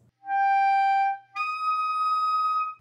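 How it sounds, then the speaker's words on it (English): A clarinet holds a clear, steady note, then breaks off and squeaks up to the next higher partial, which sounds bright and piercing and holds to the end. "squeaking or jumping to the next highest partial, and that could sound like this"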